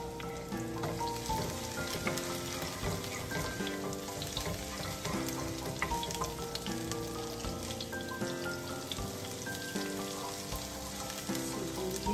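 Mixed vegetables frying in hot cooking oil in a home kitchen, giving a steady, dense sizzle that runs unbroken throughout with a tonal background layered underneath.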